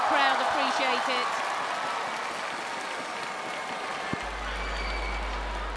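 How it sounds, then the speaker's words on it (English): Arena crowd at the 2014 men's gymnastics World Championships all-around applauds steadily after a high bar routine, a dense sustained wash of clapping with a commentator's voice over the start. "You can hear how much the crowd appreciate it."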